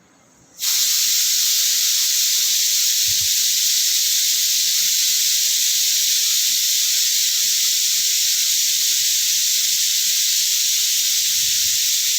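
Tomato and green chili paste hitting hot oil in a pan, bursting into a loud, continuous steamy hiss that holds steady and close for the whole stretch.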